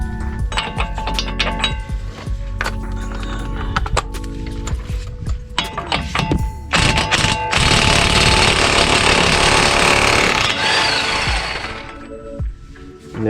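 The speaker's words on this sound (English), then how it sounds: "I had to put earplugs on because it's just when I'm doing the impact" Impact wrench working a 32 mm socket on a Subaru axle nut during a 2013 hub bearing replacement, loud rapid hammering bursts with metallic clinks, building into a sustained dense rattle before fading.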